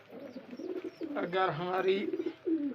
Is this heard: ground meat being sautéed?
no